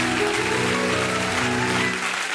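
Congregation applauding loudly during a church service, a dense steady wash of clapping filling the whole moment with no break.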